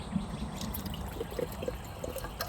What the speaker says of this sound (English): I'm gonna put the water in this one so it can start soaking.